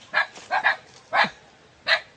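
A dog barks on a farm, five short sharp barks in irregular bursts, moderately close, with no other sound between them.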